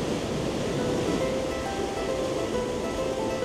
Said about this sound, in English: Normally, this is just like a very gentle stream, but it's actually kind of a monster waterfall right now.